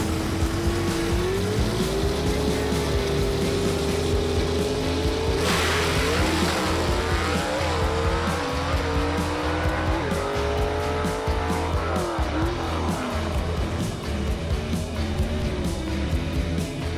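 Drag race in a gasser class with a 1957 Pontiac among the cars: loud, continuous engine roar with rising revs and a burst of tire squeal midway, filling the whole stretch without talk.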